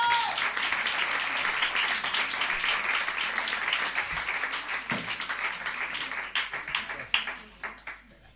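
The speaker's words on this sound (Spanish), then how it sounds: "Aplausos." An audience applauds a performer being introduced on stage, with full steady clapping that gradually thins and fades toward the end, a few scattered claps and faint voices remaining.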